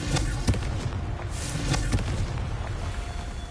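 The Confringo explosive spell goes off in the Hogwarts Legacy video game as loud, booming blasts, several heavy thumps that swell into rumbling bursts over a continuous roar of game sound.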